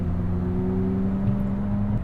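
A McLaren 570S with about 11,787 miles cruises along, its engine holding a smooth, steady low drone close by with no gear changes.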